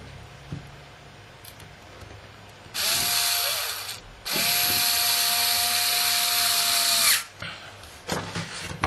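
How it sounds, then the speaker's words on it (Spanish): A power drill or screwdriver drives the four screws into a hard drive enclosure. Two loud, sustained whirring bursts each last about a second and a half to three seconds, with quieter handling sounds before and after. "Colocamos los 4 tornillos."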